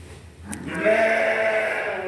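Merino sheep bleat in a pen built to hold hundreds of animals, with one loud, sustained, wavering bleat rising after a brief murmur and close-by rustling.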